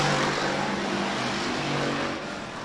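Sportsman-class race cars roar through a heat race at Rapid Speedway, a dense, continuous engine drone from several cars at once holding steady, then easing slightly near the end.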